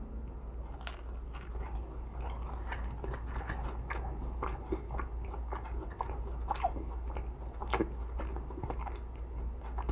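Biting and chewing a McDonald's Spicy McNugget up close, with steady moist crunching and sharp bites repeating through the whole stretch over a low constant hum, no talking.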